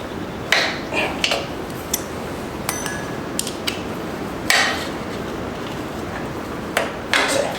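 A hammer strikes a bolt on a Craftsman tiller, giving several sharp metallic knocks at irregular intervals with some creaking in between, close and moderately loud over a steady background.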